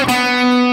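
One sustained distorted electric guitar note rings out for under a second as part of a song's lead line, loud and alone.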